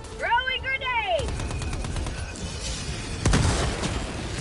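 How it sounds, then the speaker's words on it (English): Grenade blasts and gunfire in the video game Helldivers II: a loud burst of shots and booms that rumbles on, with a second heavy explosion near the end. A voice yells briefly at the start. "Throwing grenades!"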